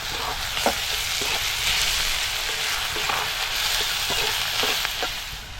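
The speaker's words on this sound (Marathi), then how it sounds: "कांदा नरम झाला ना की आता आपण ह्याच्यात मिरची टाकायची आहे" Chopped onion and green chili sizzle steadily in hot oil for a Maharashtrian horse gram zunka, with a constant broadband crackle and a few sharp spatters and stirring taps, close and alone without speech.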